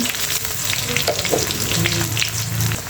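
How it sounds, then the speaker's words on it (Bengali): Whole dried red chillies and crushed garlic spit and crackle in hot oil as a tempering for a Bangladeshi-style taro stolon dish, a dense, steady close sizzle with small pops throughout and no talking. "তেল গরম হয়ে গেছে ফোড়নে দিয়ে দিব গোটা শুকনো লঙ্কা থেতো করে রাখা রসুন"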